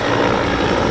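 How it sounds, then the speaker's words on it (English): Firefighting helicopters water-bombing a bushfire that jumped roads into farmland, heard as a loud, continuous, broadband rotor and engine roar with no voices. "choppers took over"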